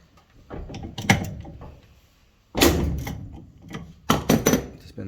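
Socket wrench loosening a right-hand-thread nut on the blower fan of an Electrolux EFME517SIW0 dryer, heard as three bursts of close metallic scraping and clatter with quiet gaps between.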